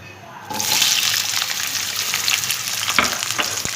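Chopped onions dropped into hot oil in a karahi, bursting into a loud, close sizzle after a brief quiet start, then frying steadily with faint stirring clinks.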